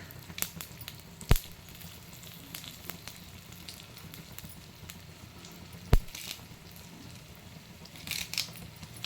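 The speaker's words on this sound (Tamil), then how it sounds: "நம்ம புளிக்காய்ச்சலுக்கு தாளித்து கொட்டுற மாதிரி உளுத்தம்பருப்பு, கடலைப்பருப்பு, காஞ்ச மிளகாய்," Urad dal, chana dal and dried red chillies crackling in hot oil for a tamarind rice tempering, a low steady sizzle with a couple of sharp clinks from a spoon against the pan.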